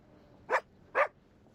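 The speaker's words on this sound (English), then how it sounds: "Hearing Wendy's excited barking, lots of puppies start to gather." A small dog in the video game Reverse: 1999 gives two quick, excited barks about half a second apart, clear and close over a quiet background.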